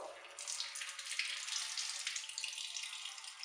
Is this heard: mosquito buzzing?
no